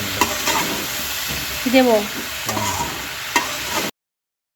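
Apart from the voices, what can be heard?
curry being stirred and sautéed in a pan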